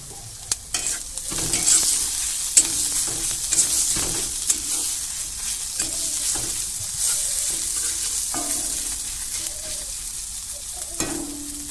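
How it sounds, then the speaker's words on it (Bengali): Spice mix with chopped green chilli frying in a pan, a loud close sizzle broken by repeated spatula scrapes and knocks as it is stirred, no talking. "মশলাটা ভাজা হয়ে গেছে,"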